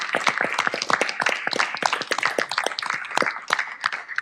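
A room of people stands and claps at a city council meeting, many sharp, distinct hand claps overlapping in an irregular patter, close and fairly loud, with no talking.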